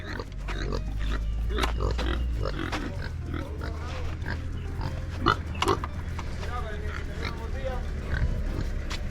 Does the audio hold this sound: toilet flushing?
no